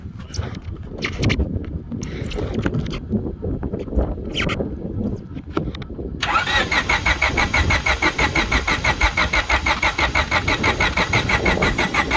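A Honda Civic hatchback engine cranks with a few uneven starter bursts after its battery was charged, then catches and settles into a loud, steady, pulsing idle running close by.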